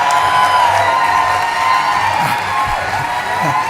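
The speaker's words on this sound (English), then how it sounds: "people stand and applaud at the start" A large audience at a Berkshire Hathaway meeting stands and applauds Warren Buffett, a steady, dense wash of clapping and cheering from the crowd throughout.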